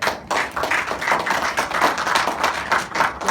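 An audience claps at a science and culture forum to welcome a maker-movement speaker. The clapping is fairly close and slightly uneven, with distinct hand slaps in a rhythmic patter that keeps going throughout.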